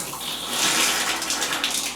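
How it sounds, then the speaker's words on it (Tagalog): A hand-held telephone shower in an old hotel bathroom runs steadily, a close, loud hiss of water spraying and splashing without pause. "testingin natin kung gumagana ba tong shower"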